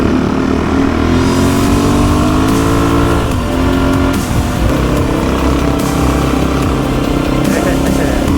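Suzuki DRZ400 motorcycle ridden on hard-packed beach sand at low tide, its engine droning loud and steady throughout with a rising pitch as it accelerates, wind noise mixed in.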